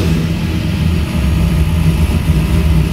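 A 1961 Ford Fairlane 500 with a Holman Moody-built 428 Cobra Jet V8 idles with a deep, steady, loud low rumble, close by and unbroken for the whole stretch, with no voices.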